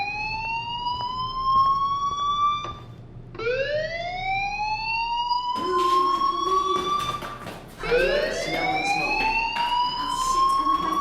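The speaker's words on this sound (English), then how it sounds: "Hey, do you hear that fire alarm?" A fire alarm rings inside the video game Life Is Strange, a series of rising, wailing electronic tones that repeat in overlapping sweeps at a steady, moderate loudness with no talk.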